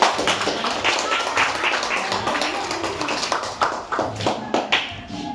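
A small group in a high school classroom claps for several seconds, a steady patter of hands that is close and moderately loud, with a few voices underneath.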